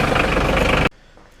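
A New Holland tractor engine idles loud and close while warming up, with a low, steady rumble that cuts off abruptly after about a second.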